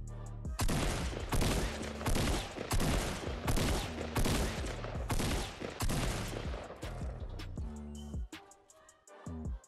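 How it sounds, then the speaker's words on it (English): Rapid tactical shotgun blasts in Fortnite, a dense run of loud booming shots fired one after another for about eight seconds before tapering off into a few scattered sounds. "And as you guys saw right there, just the tactical shotgun alone, you can only get off 8 shots"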